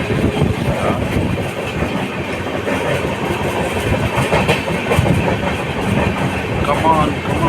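A long-distance passenger train on a journey through Madhya Pradesh between Vizag and New Delhi, with a steady loud rumble and clatter of carriages throughout and voices talking over it.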